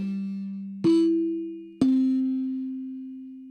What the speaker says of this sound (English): I used these NBC chimes, so I wanted to show you those